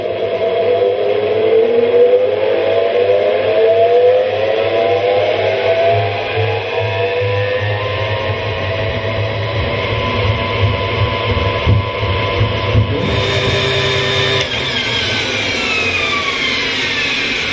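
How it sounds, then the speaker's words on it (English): An electric motor drives a honey extractor spinning combed frames at high speed, a loud steady hum with a whirring tone that rises and shifts as it spins up, continuing alone throughout. "When the electric motor is switched on, the frames are spun at high speed."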